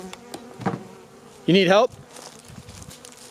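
Bees buzz close by at a winter beehive, with a loud burst of insect droning in the middle and quieter buzzing around brief speech.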